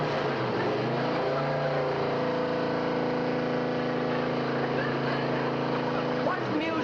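A car engine revving and holding at high speed, a steady loud drone with rising harmonic tones that swell and level off, with voices talking over it throughout.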